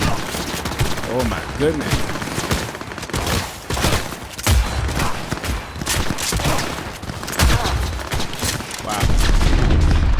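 Rapid bursts of gunfire in the video game Cyberpunk 2077, dense and loud through the whole stretch with heavier booming shots toward the end, while a player exclaims in surprise over the shooting.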